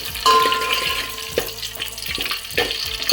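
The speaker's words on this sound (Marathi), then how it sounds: "तेल आता हे गरम झाल्यानंतर अख्खा घेतलेला गरम मसाला मी ह्याच्यामध्ये घालते" Whole garam masala spices drop into hot oil in a pan, giving a soft, steady sizzle broken by small crackles and pops, close and alone with no talk.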